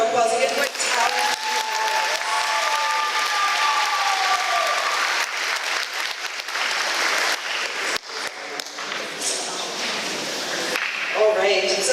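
A school audience gives sustained, loud applause and cheers for a young performer named Journey, with a dense wash of clapping that holds steady throughout, and crowd noise and voices mixed in.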